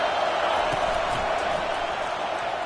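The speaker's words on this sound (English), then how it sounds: "Listen to this crowd just shaking the girders of this place, trying to help their defense." Roaring stadium crowd at a college American football game, a dense, steady wall of noise as fans try to rattle the offense, fairly distant, with a commentator talking over it.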